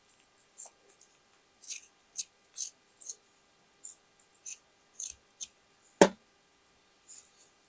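Scissors snipping through denim from old jeans, a series of about a dozen crisp, close cuts spaced at irregular intervals, with one louder snap near the end and no talking.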